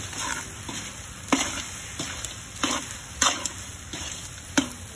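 A spoon scrapes and stirs through thick, sticky biko, glutinous rice cooking with sugar and coconut milk in a pan, the strokes coming in regular close rhythmic sweeps over a faint bubbling sizzle, with no voices.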